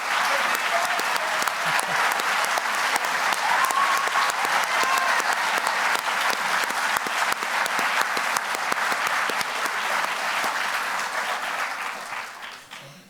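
Sustained, loud audience applause fills an exoneration event honoring the families of wrongfully convicted individuals, steady clapping without a break before tapering off at the very end.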